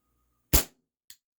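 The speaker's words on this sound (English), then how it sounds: "I am shooting at a cardboard box" A WE Tech Bulldog gas blowback airsoft pistol fires one sharp, loud crack at a cardboard box, and a quick faint tick follows half a second later.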